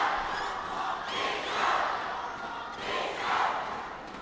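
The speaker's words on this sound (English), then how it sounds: "Supporters in red have got something to cheer about at the moment." A crowd of supporters at an Asian Games badminton singles match roars and cheers in rising and falling swells, loud and broad across the hall.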